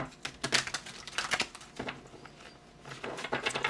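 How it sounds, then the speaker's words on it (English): Playing cards being reshuffled during a reading, heard as quick soft riffles and flutters in short bursts close by, with no talking. "reshuffle all the cards again"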